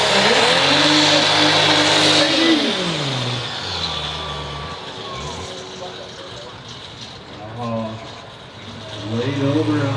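A diesel truck revs hard at full pull, its engine note climbing and falling in loud surging sweeps, easing off midway before building again, with people talking over the roar.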